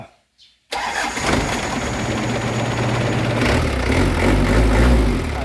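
The diesel engine of a short six-wheel NKR truck cranks and catches after a brief near-silence, then settles into a loud, steady rumbling run close by.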